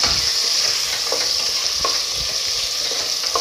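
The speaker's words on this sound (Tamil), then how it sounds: "3 வெங்காயம் 1 பச்சை மிளகாய் போட்டுக்கோங்க நல்லா வணக்கி விடுங்க" Onions and green chilli sauté loudly in a pan, a continuous close sizzle broken by a few scraping stirs of the spoon.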